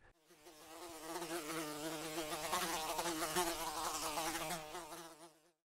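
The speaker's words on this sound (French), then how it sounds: "Ça, c'est une mouche." A housefly buzzes close and steady for several seconds, its wavering drone rising and falling slightly in pitch before cutting off.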